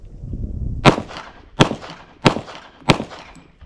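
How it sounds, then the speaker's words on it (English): Four loud, sharp handgun shots from live rounds, fired at an even pace about two-thirds of a second apart. Each crack rings out close and decays with a short echo. "Then it's a matter of just getting it out and shooting it, which I've got a live round in here."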